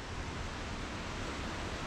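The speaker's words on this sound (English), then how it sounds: "The waterfall's fairly running over there" A waterfall near Edzell, Scotland, runs in a faint, distant and continuous rush of falling water, with no voices.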